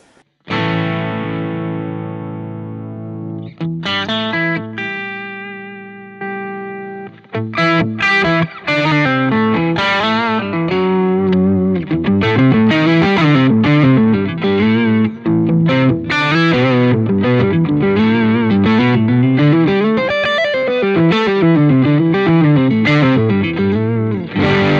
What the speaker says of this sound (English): Effects, maybe I'll just press this,